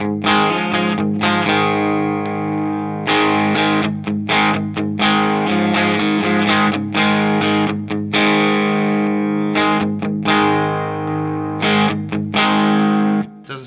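Electric guitar played through an MXR Distortion+ pedal into an Iridium amp, input turned all the way up and distortion wound down; loud, sustained distorted chords and riffs with short choppy breaks, no talking.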